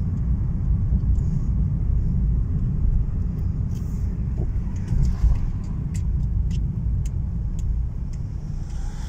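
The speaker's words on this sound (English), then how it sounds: "Hitting all the fucking traffic here now." Road traffic rumbles past a moving car, a loud, continuous low drone with scattered light clicks and ticks above it and no talk.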